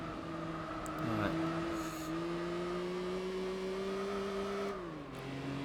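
A high-pitched race car engine in Gran Turismo 4 holds a steady drone, its pitch gradually climbing before dropping sharply near the end, with a brief shift partway through.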